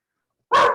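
A single sharp dog bark at a city council meeting, close and fairly loud, after a moment of silence.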